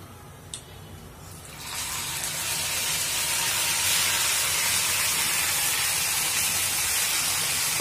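After a quiet moment, a loud hissing sizzle bursts up and stays steady and strong, as hot oil with fried onion and garam masala is mixed into pithuli.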